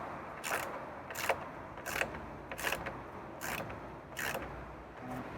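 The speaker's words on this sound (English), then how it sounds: "But I just use my socket set, does the job." A socket-set ratchet tightens bolts on a garden room floor frame, giving six evenly spaced bursts of quick clicking over a steady background, fairly close and moderately loud.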